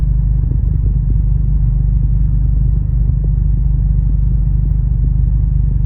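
A Honda car engine idles steadily after start-up, a loud, continuous low rumble with faint mechanical clatter throughout and no speech.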